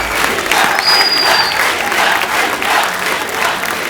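A studio audience at a TV comedy show claps in loud, dense, sustained applause that swells and holds throughout.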